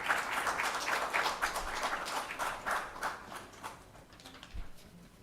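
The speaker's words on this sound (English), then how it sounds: "a round of applause for that" Scattered applause fills a conference multipurpose hall at the India Internet Governance Forum. Uneven, moderately loud bursts of clapping ripple for a few seconds and then taper off.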